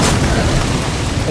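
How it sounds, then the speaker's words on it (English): A loud, close explosion in the video game State of Decay 2, a single deep boom with a rumbling tail across the whole short span. "Explosion over there."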